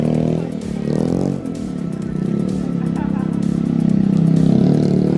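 A stunt motorcycle idles roughly and stutters as it keeps stalling, then revs back up with a wavering mid-pitched engine note, close and loud, with a voice talking briefly over it.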